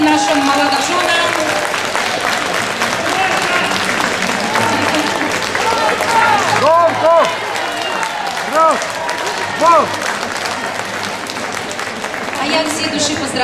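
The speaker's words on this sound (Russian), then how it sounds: "аплодисменты нашим молодоженам" Audience applause for newlyweds Alexander and Maria at a traditional Russian Zaonezhye wedding staged at an exhibition, steady clapping sustained throughout with music and voices mixed in over it.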